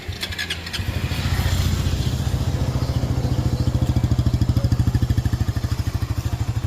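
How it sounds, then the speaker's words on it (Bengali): A Suzuki GSX-R motorcycle engine catches after a brief clattering start and settles into a steady, close, rapidly pulsing idle with an even throbbing rhythm. "বাইকটির সাউন্ড কোয়ালিটি দেখি।"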